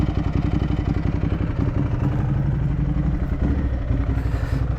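A Ducati Hypermotard 821 motorcycle idles close by with an uneven, lumpy stutter, its steady low engine rumble pulsing irregularly with no talk over it.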